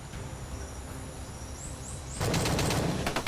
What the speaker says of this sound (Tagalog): Kasi sobrang dami ng putok nito oh.